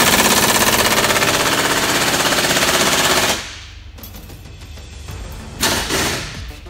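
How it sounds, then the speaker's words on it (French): A machine gun fires nearby in a loud, dense, continuous burst lasting about three seconds, then cuts off to quieter background clatter and a few thuds. "Pendant qu'il y en a qui tirent à la mitraillette"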